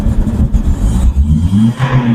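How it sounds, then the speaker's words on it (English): A Honda Civic's CNG-fuelled engine revs unevenly, its close, loud drone rising and dipping without settling as it struggles to build speed. "let me wind down so that you can hear the sound of the engine. So if I raise the engine,"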